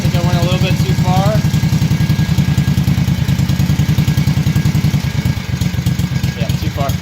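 A two-cylinder Kawasaki FH series small engine idles roughly during carburetor idle adjustment, its close, steady pulsing chug running throughout while a voice speaks briefly at the start and near the end.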